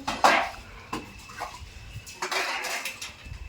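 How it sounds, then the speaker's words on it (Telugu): Metal dishes and pots clatter and clink in short bursts as they are set out to dry, a few close knocks and scrapes with quiet gaps between them. "ఎందుకు గిన్నెల ఉంది అందుకని ఆరబెడుతున్నాము గిన్నెలు"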